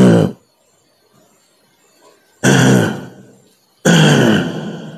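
A person's voice imitates throat clearing: a short gruff burst at the start, a pause of near silence, then two louder, longer throaty rasps, close and alone.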